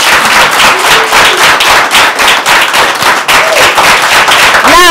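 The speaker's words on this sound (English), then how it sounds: "Please clap for yourself." A crowd of mothers from SOS Children's Villages claps loudly and continuously in a dense, close burst of many hands that fills the whole stretch.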